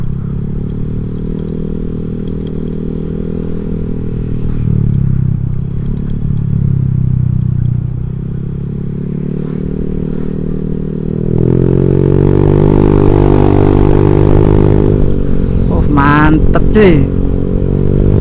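A Honda Vario 150 scooter fitted with a Black Devil S2 exhaust rumbles loud and close while riding, its engine note holding steady then rising as the throttle opens, with someone talking over it.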